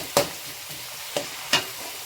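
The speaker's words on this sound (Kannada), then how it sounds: "ಬೆಳ್ಳುಳ್ಳಿ ಸ್ವಲ್ಪ ಜಾಸ್ತಿನೇ ಇರಬೇಕು. ಈಗ ನೋಡಿ, ಚೆನ್ನಾಗಿ ಸ್ವಲ್ಪ ಫ್ರೈ ಮಾಡ್ಕೊಳ್ಳಿ." Garlic frying in a pan for hotel-style paneer fried rice, heard as a soft low sizzle broken by three sharp scraping stirs, the last two close together near the end.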